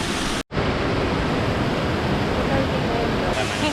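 Mandala Falls at Antonio's Nature Park roars as a loud, continuous broadband rush of falling water, close and steady with a brief dropout near the start.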